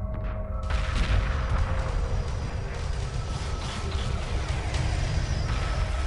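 Space fleet weapons fire and battle rumble from Homeworld Remastered fill the mix continuously, a dense, loud wash of booms and crackling blasts with no pauses.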